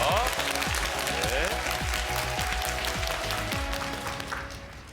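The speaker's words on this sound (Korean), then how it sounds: "박수 부탁드리겠습니다" Studio audience applause on a Korean quiz show, moderate clapping that gradually fades, with musical stings and tones from the show playing over it.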